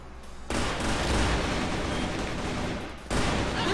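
Rapid automatic gunfire in the online shooter CrossFire, a dense continuous burst that fills the clip loudly, dropping briefly near the end before another burst starts.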